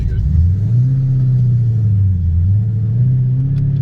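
Cammed Ford BA GT engine rumbles loudly and close, its tone rising and falling as it revs with a lumpy, heavy low drone throughout.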